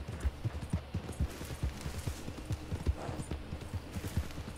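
Horse hooves galloping in the video game Red Dead Online, a quick, steady, fairly close clip-clop beat over a low rumble, with no talk.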